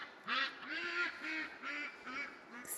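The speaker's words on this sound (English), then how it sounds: "excuse the ducks." Free-ranging backyard ducks give a run of five or six raspy quacks in steady succession, close by, with nothing else competing.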